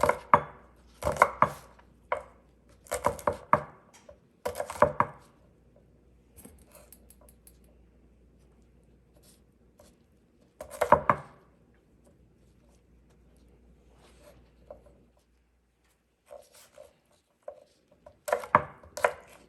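A knife chops ingredients for a Thai basil stir fry into small pieces on a board, in loud clustered bursts of quick strokes separated by pauses, with a low background hum in the middle stretch.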